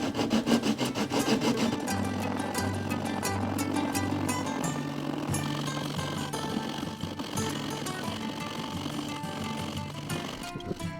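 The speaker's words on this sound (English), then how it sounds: "I'm going to use a flush cut saw just to trim it on down as flush as I can get to the top" A flush cut saw trims wood down level along a guitar's sound port border, with steady, continuous rasping strokes close by against a tonal hum in the background.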